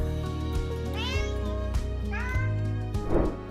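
A cat meows repeatedly at its owner: two drawn-out, rising and falling meows at close range, followed by a softer, breathy vocal sound at the end.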